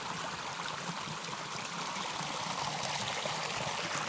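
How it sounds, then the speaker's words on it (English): Water runs steadily down a stream along Starr Trail, a continuous close rushing and trickling flow with no talking. "And water going down to the left to the stream."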